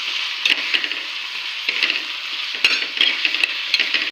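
Spices (black chilli powder, black masala, homemade red chilli powder) stirred into potato chutney in a pan, a steady scraping sizzle with spoon clinks scattered through, close and alone.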